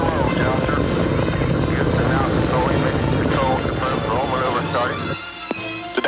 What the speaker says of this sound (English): we have main engine start, and ignition, and liftoff.